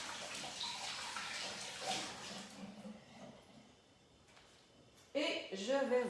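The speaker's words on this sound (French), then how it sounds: "Tout ce que je fais, c'est que je la passe à l'eau par la suite pour la nettoyer." An object is rinsed under running water from a tap, a steady soft wash of water that fades midway, then resumes louder with a burst of talk near the end.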